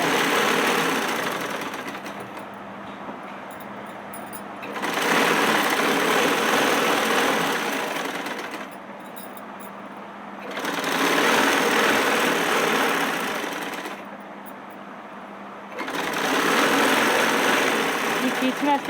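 A sewing machine stitches elastic in three separate broadband runs of a few seconds each, with quiet pauses between them and no talk over the motor.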